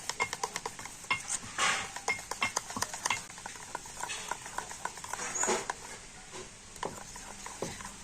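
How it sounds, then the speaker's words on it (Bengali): Rice batter made from cooked rice and water being beaten by hand in a bowl, a brisk run of wet stirring and slapping strokes with soft patter, close and fairly quiet, no voice. "জল দিয়ে তো ব্যাটারটাকে আবার একটু ভালো করে ফেটিয়ে নেব"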